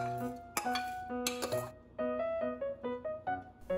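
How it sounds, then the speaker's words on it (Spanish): Uncooked white rice poured into a glass, giving bright clinking and rattling hits with ringing glassy tones, several separate bursts and pattering grains close up, no talking. "Y agregamos arroz blanco al vaso."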